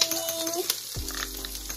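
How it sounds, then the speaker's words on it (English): Kale fries in a pan in a home kitchen, giving a brief, quiet sizzle mixed with low hum and a faint tonal background. "I'm cooking kale."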